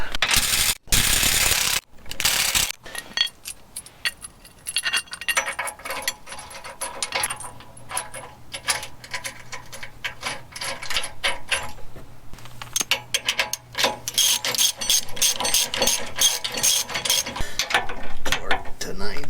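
A torque wrench ratchets recovery point bolts on a Lexus LX 470 or Land Cruiser, giving a loud, close, rapid stream of clicking pawl strokes that runs almost unbroken, with a few sharp metallic knocks near the start.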